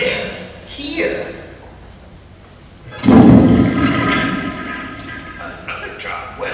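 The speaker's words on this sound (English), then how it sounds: "Go ahead, flush it." A toilet flushes loudly in a mobile app demo, a sudden rushing swell of water that holds steady for several seconds, with speech heard both before and during it.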